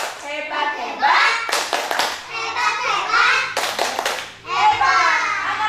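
Children chanting in rhythm with bursts of hand clapping, two sharp clusters of claps punctuating lively kids' voices in a kindergarten setting.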